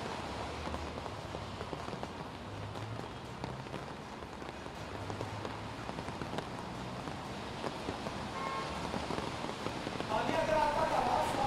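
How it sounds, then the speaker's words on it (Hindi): Strong wind and steady rain sweep over Delhi during a storm, giving a dense, continuous patter and rush that stays fairly loud throughout, with faint voices under it. "ये जो तेज हवाएं और बारिश है इसने मौसम को बदला है"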